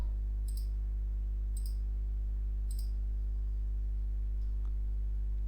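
Three light, sharp computer mouse clicks, evenly spaced, during work in Creo Parametric CAD software, faint above a steady low electrical hum, with no speech.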